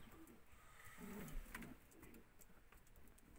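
Pigeons softly coo inside a tumbler pigeon coop, with faint, low murmuring calls and light rustling heard at a distance.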